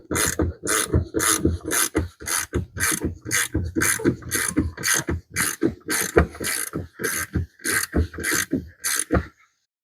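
Bolts being tightened on the wiper motor of a 2011 Ford F-250, a close, loud series of rapid ratcheting clicks in repeated bursts with short pauses between strokes and no talking.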